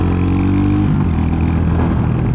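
A Royal Enfield Hunter 350 single-cylinder motorcycle engine thrums loud and close while riding in fourth gear at about 80 km/h, its pitch shifting slightly partway through, with steady wind noise over the throb.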